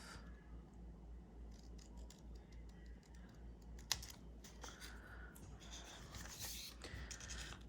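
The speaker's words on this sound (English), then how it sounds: "Either way, I'm cutting this white off." Scissors snip through paper to trim white edges from a planner page, a series of soft, close cuts with small clicks over a steady low background hum, no voices.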